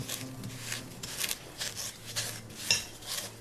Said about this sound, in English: Cream the butter and sugar together. You can use a machine here, but I actually like doing it by hand.